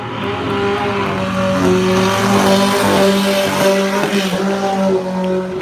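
Sprint cars roar at Unity Raceway as one car spins at the checkered flag, loud engines revving with rising and falling pitch over several seconds and a brief squealing skid midway, with no voices.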